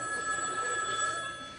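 A telephone bell rings in a continuous, insistent trill, fairly faint and steady for the whole moment with no voices over it.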